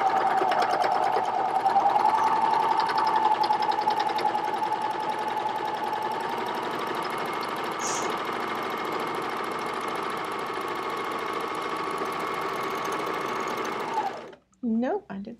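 An air thread serger runs continuously at speed to clear thread, a loud, steady mechanical whir with rapid stitching clatter, ending abruptly after about fourteen seconds with a few brief clicks.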